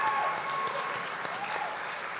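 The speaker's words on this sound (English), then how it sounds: "Let's give them a round of applause" Applause from an audience at a national simulation competition event, a steady wash of many hands clapping at moderate distance, continuous and fairly even throughout with a faint voice underneath.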